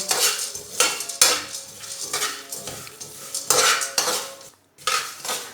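Peanuts and sesame seeds being roasted in a pan, stirred with a metal spoon that clinks and scrapes in repeated close strokes. There is a brief pause near the end and no speech.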